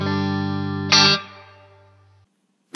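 An electric guitar runs through a Poly Effects Beebo pedal on its Winter Forest distant reverb setting: a sustained chord rings, a brighter strum cuts in, then the tail fades softly into near silence before another attack.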